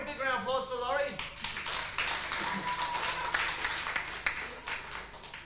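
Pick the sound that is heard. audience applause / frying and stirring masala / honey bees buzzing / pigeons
audience applause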